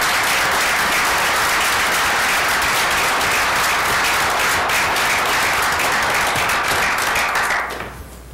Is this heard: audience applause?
yes